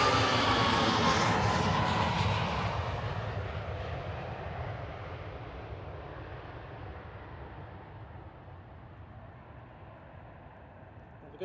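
An airliner taking off at Manchester Airport, its loud broad engine roar at first close and then steadily fading into the distance as the jet climbs away, with no voices.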